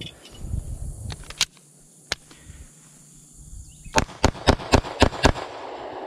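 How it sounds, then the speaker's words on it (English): A Diamondback DB9 Gen4 pistol is fired at a range in a rapid string of sharp, loud shots, with a couple of isolated reports first and then a quick burst of about seven closely spaced cracks. "I'm going to do another mag dump."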